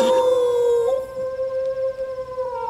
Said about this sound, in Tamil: தூரத்துல ஒரு நாய்